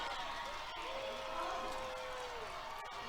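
A home softball crowd at a college game reacts to a strikeout with a low, steady roar of murmuring and scattered shouts, heard from a distance and fairly faint.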